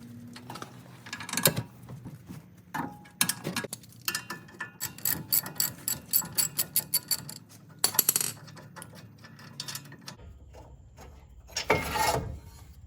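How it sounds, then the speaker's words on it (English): Ratchet clicking repeatedly while loosening the tight front brake caliper bracket bolts on a 2015 Ram 1500, close and loud in bursts of rapid pawl clicks with short pauses and a few metallic clunks between. "So now, we are going to pull off the caliper bracket, which is this bolt and this bolt."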